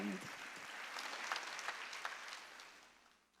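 A church congregation claps during a Wednesday worship sermon, a steady wash of many hands that thins out toward the end, with a brief voice near the start.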